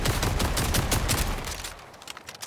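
Rapid bursts of automatic fire from the Daedalus gun in SMG mode in Borderlands 4, loud and dense for about a second and a half, then thinning into a few scattered shots.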